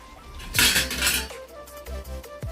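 A spatula scrapes and clanks inside a small kerahi while pork with lai greens cooks, giving a loud burst of metallic scraping followed by lighter intermittent clinks.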